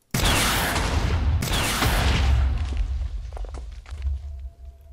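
A house blown up with TNT in Minecraft: two loud, close explosive bursts in quick succession, followed by a tail of crackling, thudding debris that fades gradually.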